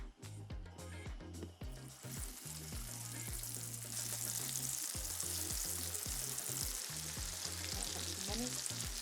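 Yuca fries frying in hot oil make a dense, bright sizzle that swells and holds steady, with bubbling crackle, while a low tonal background rumbles underneath.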